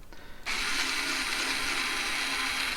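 A motorized screwdriver whirs steadily while backing small screws out of a Schiit Bifrost audio DAC during a teardown. It starts abruptly after a short quiet moment, then runs as a loud, continuous high-pitched motor whine close by.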